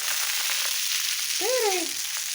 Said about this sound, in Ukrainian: виливаю на сковорідку